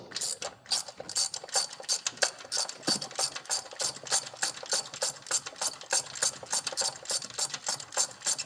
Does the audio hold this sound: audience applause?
no